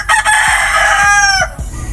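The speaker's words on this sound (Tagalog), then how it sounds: "Disturbo na manok to." A rooster crows loudly and close by, one long drawn-out cock-a-doodle-doo with clucking around it, heard during work installing cyclone wire fencing.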